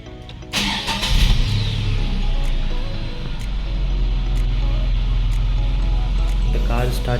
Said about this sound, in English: So now let's try to start the car.